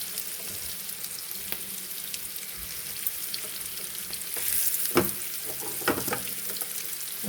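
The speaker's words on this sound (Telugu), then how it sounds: "మూత పెట్టి కాసేపు వేయించుకుందాం" Stuffed bitter gourd (kakarakaya) fries in a pan, giving a steady, close sizzle and crackle with a few sharper pops and spits scattered through, no voices.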